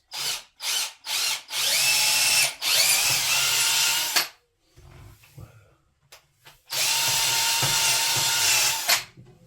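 A power drill whines loudly in several short bursts, then runs steadily for a couple of seconds, pauses briefly with faint clatter, and drills again at length, boring a hole while building a DIY shower.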